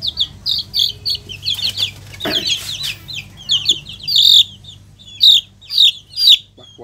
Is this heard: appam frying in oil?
no